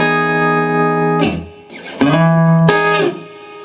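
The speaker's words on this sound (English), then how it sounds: "I give it some more middle and I got a fantastic clean sound." Clean electric guitar tones ring out through an Ampeg GVT15-112 combo amp with boosted mids, sustained chords with bright harmonics, changing every second or so, up close and fairly loud.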